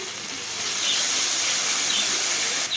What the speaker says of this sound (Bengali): মশলা আর পেঁয়াজটা ভাজা ভাজা হয়ে এসছে